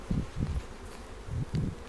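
Male drone bees and worker bees at a hive in a conservation area give a low, close buzzing hum that swells and fades in several bursts, with short quieter stretches between them.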